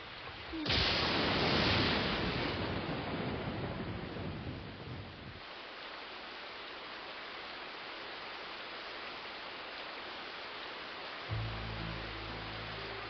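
Thunderstorm in a 1993 animated film, with a loud thunder crack and heavy rain roaring at first, then a steady rain wash continuing; a low rumble returns near the end.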